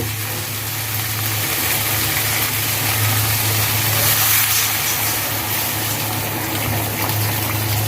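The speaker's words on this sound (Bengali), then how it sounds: "পানি দিয়ে দিব" A steady, continuous gush of water pouring into a pan of fish and green banana curry, with a low mechanical hum beneath it, fairly loud and unbroken throughout.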